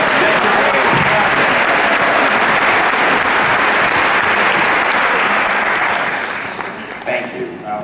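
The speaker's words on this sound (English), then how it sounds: "how about another round of applause for brand new citizen Desiree Pion" At a naturalization ceremony in Oakland, California, the crowd breaks into loud, sustained applause for a new citizen, and the clapping thins and fades toward the end.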